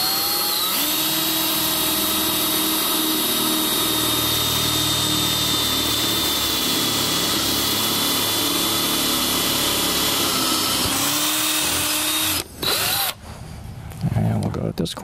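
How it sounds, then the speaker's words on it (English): A power drill with a worn bit whines steadily for a long stretch boring into wood, slowing slightly as it bites in, then stops abruptly with a few clatters and handling noises. "This drill bit feels like it's getting kind of old."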